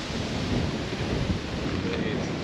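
Strong wind at the Goodwood Festival of Speed buffets the microphone in a loud, rumbling roar, with a faint voice nearly buried underneath.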